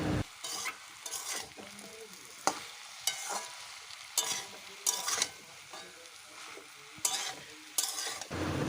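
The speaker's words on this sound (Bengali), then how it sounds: "বেশ কিছুক্ষণ ভেজে নিলাম শাকগুলোকে" Malabar spinach with pumpkin and potato is stir-fried in a pan, a steady sizzle broken by repeated sharp scraping strokes of a spatula, close up and without speech.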